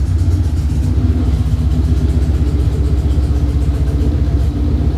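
Ford Coyote V8 swapped into a station wagon, idling steadily and smoothly up close with a deep, continuous rumble and no voices over it.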